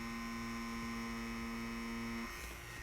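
Small Inkclaw pen-style tattoo machine running steadily, a constant close electric buzz with a strong tonal whine that stops near the end, leaving a softer hum.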